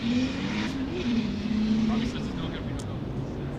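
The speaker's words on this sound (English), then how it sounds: "Just a nice mellow exhaust" A Toyota Supra drift car competing in Formula Drift Pro 2 qualifying in Texas gives a steady, loud, mellow exhaust drone that holds throughout, mixed with ambient event noise.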